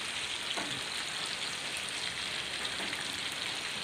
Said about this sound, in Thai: โอเคครับนี่คือฝนเห็นฝนไหมเพื่อนสายฝนที่โปรยปลาย